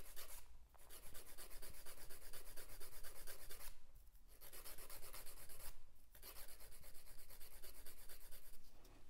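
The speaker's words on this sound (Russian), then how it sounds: "Сначала я выставляю пилочку вот так и задаю форму торцу." A nail file shaping the edge of a nail extension: steady close rasping strokes, faint and continuous, broken by two short pauses, with no voices.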